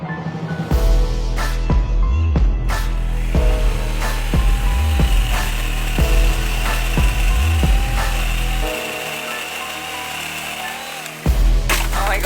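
An Ozito 18V battery chainsaw cuts through a big hedge branch, a loud close steady whine of the motor and chain with wood crackling, easing off near the end.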